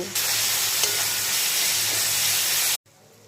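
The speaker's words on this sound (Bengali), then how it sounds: "এবার একে একে টমেটো কুচি আর সব গুঁড়ো মশলা দিচ্ছি, ভালো করে কষিয়ে নেব" A pan of frying onion, tomato and ground spices gives off a loud, steady hissing sizzle that cuts off abruptly near the end, with no voices.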